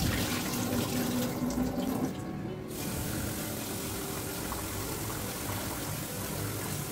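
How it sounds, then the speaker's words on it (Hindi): Water poured from a glass onto washed rice in a clay pot while cooking mutton dalcha, a steady close splashing flow that runs continuously with a brief dip partway through, no voices. "दो से तीन बार चावल धोने के बाद इसमें दो से ढाई गिलास पानी डालें।"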